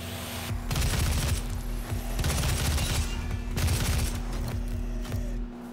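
Rapid, dense weapon fire from the Doom video game, a continuous booming fusillade of shots with short pauses, loud and close under a steady background hum.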